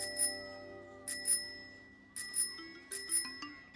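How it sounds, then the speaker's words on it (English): A bicycle bell rings in several quick double dings, spaced in bursts with bright, clear metallic tones that linger and fade between rings, loud and close with no talking. "It's a bell, a bicycle bell."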